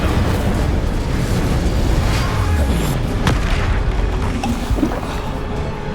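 An Incendio fire spell is cast in the Hogwarts Legacy video game, producing a loud, continuous roaring whoosh of flame. A sharp crackling burst cuts through midway.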